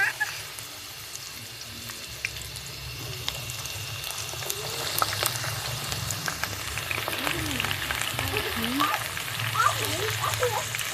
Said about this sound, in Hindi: ये गर्म हो जाए तो इसमें भिंडी ऐड कर दूँगी, भिंडी ऐड करके इसको फ्राई करना है